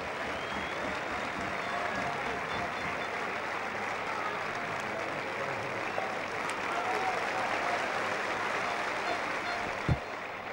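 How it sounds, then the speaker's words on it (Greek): A stadium crowd applauds the goal scorer at an AEK football match, a dense, steady wash of clapping and cheering that holds at a constant level throughout, with a sharp thump near the end. "Θερμό χειροκρότημα στον σκόρερ του δεύτερου τέρματος"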